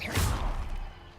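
A fire spell cast in the video game Hogwarts Legacy bursts out as a short, loud whoosh and thud, with a low impact rumble and hiss that tail off over about a second.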